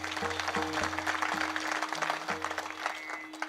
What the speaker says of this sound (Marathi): म्हणून एकदा जोरदार सर्वांनी टाळी वाजवा